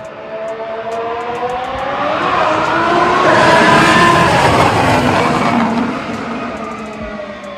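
A Formula 1 car with a Ferrari engine screams past at Silverstone, a high-pitched whine swelling to a loud peak before fading into the distance.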